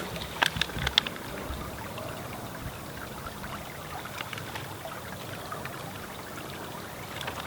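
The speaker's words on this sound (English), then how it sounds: "you can squeeze the bottle and get some water flow" A squeezed Survivor Filter bottle gives a thin, steady trickle of water, with a few sharp clicks and splashes at the start, close and otherwise alone.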